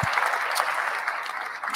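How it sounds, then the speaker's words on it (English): Steady, dense applause from an online education event audience, a continuous wash of many clapping hands at even loudness throughout. "a special congratulations and applause to everybody who's been helping"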